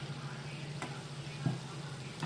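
Puri dough frying in hot oil, a steady quiet sizzle with a few brief bubbling pops and stirring clicks, close and continuous.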